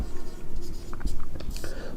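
A pen writing a trigonometry formula, close scratchy strokes and taps on paper, with a voice speaking quietly over it.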